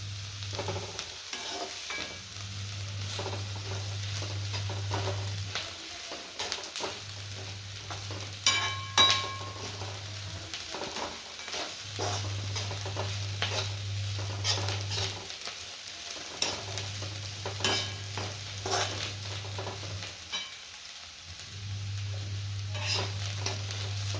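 Masala upma ingredients frying in oil in a pan, a steady close sizzle with repeated stirring scrapes in regular bursts, running alone without talk.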